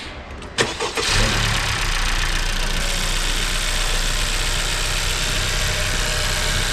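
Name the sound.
Honda Civic FK7 engine started and idling, MST cold air intake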